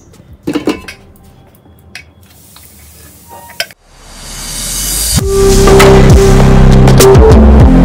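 Metal pots clink and clank while sangri sabzi cooks, with a few sharp knocks as a lid goes onto a pot, then a loud, steady rushing hiss and rumble swells up and continues.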